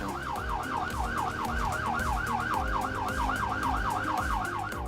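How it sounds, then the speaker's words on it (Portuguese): A wailing ambulance siren sweeps up and down in steady, rapid cycles, loud and continuous over a low rumble of traffic, as an ambulance runs a top-priority red-code emergency call. "E o código vermelho, que é o nosso mais alto patamar, vai com a sirene ligada"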